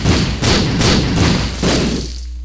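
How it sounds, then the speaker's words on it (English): Bombs go off in The Binding of Isaac, a series of about four loud, close thuds in quick succession, each a deep boom that fades into a low rumble. "Bombs everywhere."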